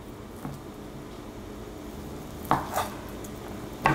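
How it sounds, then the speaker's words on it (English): Knife slicing food on a cutting board while cooking a vegetarian Vietnamese noodle dish, a few sparse sharp cuts and taps, close and moderately loud against a quiet room. "And then I cut it into slices about this thick so that when I fry it, it won't be too thin and burn too easily."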